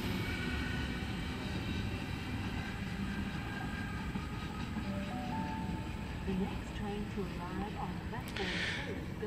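A Sydney Waratah Series 1 electric passenger train roars past nearby with a steady rumble and rising metallic whine, a brief sharp hiss near the end.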